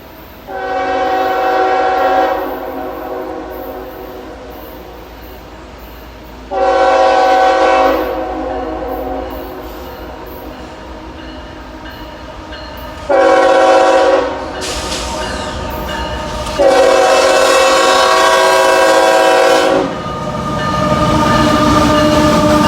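A westbound train rumbles steadily through the ghost town of Thurmond as its horn blasts in several long, loud sounds, some with short breaks and one overlapping pair, while it approaches.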